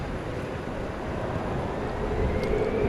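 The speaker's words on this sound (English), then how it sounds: "Here goes American 1648, an Airbus A321." An American Airlines Airbus A321 jet taking off at night at DFW airport, a broad steady engine roar rising slightly and holding, heard from a distance, no talking.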